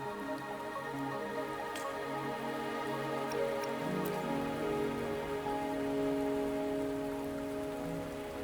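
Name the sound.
rain falling, in the video game Wuthering Waves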